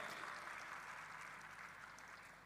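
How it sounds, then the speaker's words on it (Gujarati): Audience applause at a religious festival gathering, a dense continuous wash of clapping, distant and fairly faint, gradually fading over a few seconds. "આપણે એમને જોરદાર તાળીઓના નાદથી વધાવીએ"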